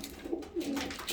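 Pigeons in a breeding loft coo softly in low, throaty pulses, fairly close but quiet, with faint background rustle.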